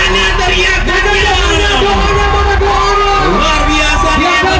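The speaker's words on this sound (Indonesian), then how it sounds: "Mana teriakannya?" A dense crowd at an outdoor community fun walk and prize draw yells and cheers continuously, loud and close, with raised voices blending into a constant roar.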